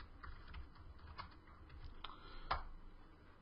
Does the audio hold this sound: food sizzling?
no